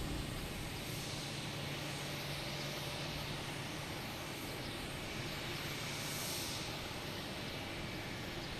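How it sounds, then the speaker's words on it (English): A United 737 MAX 9 jet lands at Logan Airport on arrival from San Francisco, its engines a steady, broad roar that stays loud and even throughout, with a faint low hum beneath. "Here's United 737 MAX 9 coming in from San Francisco"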